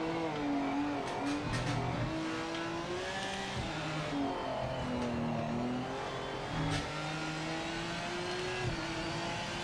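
A race car in a driving video game revs under changing throttle, its engine note rising and falling in pitch through gear changes and corners. The sound is steady, loud and close.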